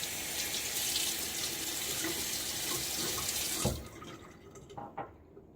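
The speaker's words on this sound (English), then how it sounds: "let's rinse this thing off." Running tap water splashes steadily as a Charcoal Goods Level 2 safety razor is rinsed, then the flow cuts off, leaving a few faint drips and light clinks nearby.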